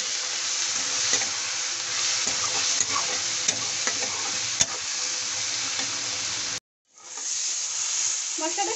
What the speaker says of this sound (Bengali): মশলাগুলো ভালোভাবে ফ্রাই করে নেব।